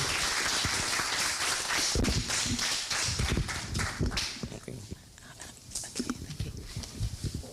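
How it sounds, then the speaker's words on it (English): Audience applause at a territorial spelling bee for the winners, a loud, dense burst of clapping that thins into scattered, irregular claps toward the end. "Please give them a round of applause."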